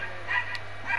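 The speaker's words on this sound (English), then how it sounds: "You wanna hear more barking?" In the Fortnite video game, a dog gives a brief, fairly quiet yip or bark over faint background ambience.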